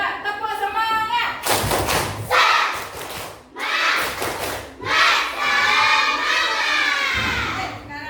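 Classroom children clap together and chant a rhythmic 'tepuk semangat' cheer, bursts of claps and shouted voices rising and falling in several loud rounds, close and lively.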